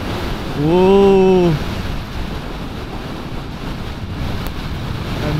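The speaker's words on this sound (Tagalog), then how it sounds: "Nandun yung mga windmill, sobrang lakas ng hangin" Strong wind buffeting a microphone near windmills on a coastal road in the Philippines, a loud continuous rumbling roar throughout, with a brief exclaiming voice early on.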